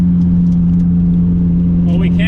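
A 1993 Honda Civic, apparently stuck in limp mode, drones at full throttle with a loud, steady low engine hum that barely changes pitch, plus a brief higher whine near the end.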